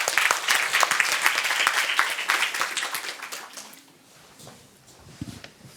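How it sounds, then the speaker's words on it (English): Audience at a student award presentation applauds, a dense burst of clapping that is loud at first, then thins and fades to a few scattered claps. "So let's give a round of applause to Olivia."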